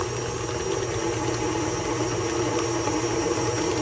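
Electric mixer cranked to high speed beating cream cheese frosting for red velvet cake, a steady close whirring drone running continuously with no talk.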